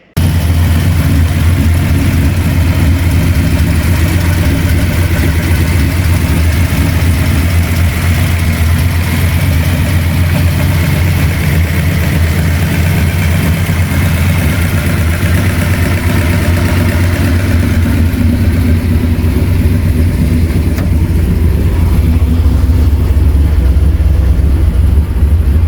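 A 2000 Holden Commodore V8 Supercar race engine idles steadily with a deep, lumpy rumble that stays loud and close throughout, no voices heard.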